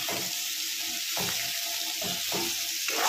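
Sliced bitter gourd sizzles steadily in a hot pan, a constant frying hiss with a few soft scraping stirs of the spatula, close and moderately loud, with no talking.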